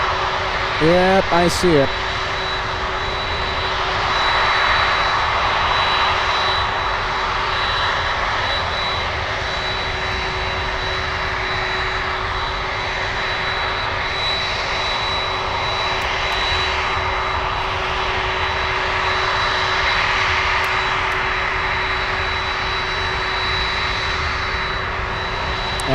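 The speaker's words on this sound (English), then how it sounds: "747 landing north side." A Boeing 747 landing on the north side of Miami International Airport gives a steady, broad jet roar with a persistent high whine, sustained throughout while voices talk over it.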